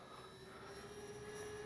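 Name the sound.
Avios Twin Otter RC model plane flying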